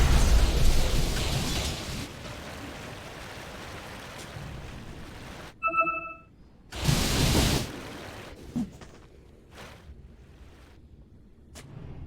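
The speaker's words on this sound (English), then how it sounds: "Radiant's middle tower has fallen." A Dota 2 tower falls with a loud crumbling burst amid constant battle noise, followed by a short tonal chime and another heavy crash, then scattered hits fading into quieter game ambience.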